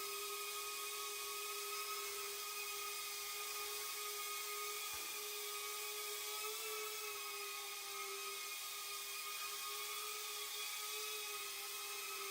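A Snapper 7 model helicopter hovers at just over half throttle, its rotor and motor giving a steady, continuous whine and hum with no pauses and no voices.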